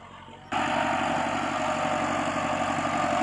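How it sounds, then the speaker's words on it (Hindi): A Massey Ferguson 375 tractor pulling a 13-tine plough through a field with the lever fully down, its diesel engine starting as a sudden loud, steady throbbing drone after a brief quieter moment. "375 ट्रैक्टर है वो पिछे 13 फाला हल पाया हुआ जमीन तैयार कर रहे हैं"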